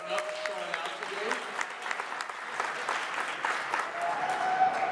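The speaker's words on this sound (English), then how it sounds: "Give yourselves a round of applause for showing up and showing out today." A crowd claps in steady, sustained applause, loud and close, with voices mixed in underneath.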